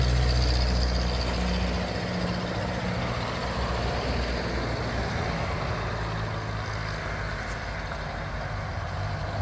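Antique Ferguson TEA20 tractor engine running and moving off, a loud, steady, close low rumble that eases slightly as it settles into motion, with no talk.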